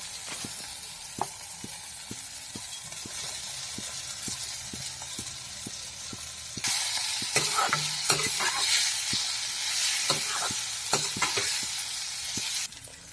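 Paneer frying in a pan for a paneer curry, with steady sizzling and repeated clinks of a spoon stirring throughout, growing louder and brighter about halfway through; no voices.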